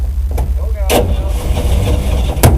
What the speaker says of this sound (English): This is cold start right here.